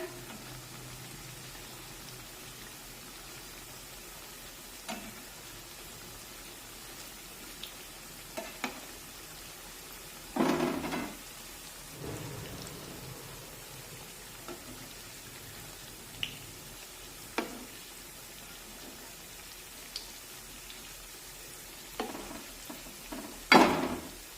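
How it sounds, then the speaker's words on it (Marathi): Methi vadi shallow-fry in oil with a faint, steady crackle. Occasional louder bursts of spatter and clatter come as the pieces are turned over, and the last one is the loudest. No one speaks. "आणि आता अशाच पद्धतीने उलट पुलट करत दोन्हीही बाजूने या वड्या छान सोनेरी रंगावर तळून घेऊया"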